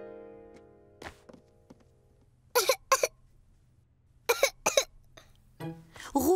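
A cartoon child with the flu coughs in short bursts, several separate coughing fits with quiet gaps between them, close and clear.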